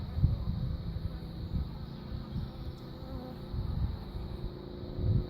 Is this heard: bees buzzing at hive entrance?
yes